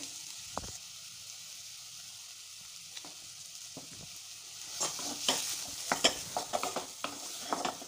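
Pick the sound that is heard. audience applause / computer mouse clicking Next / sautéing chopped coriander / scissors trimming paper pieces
sautéing chopped coriander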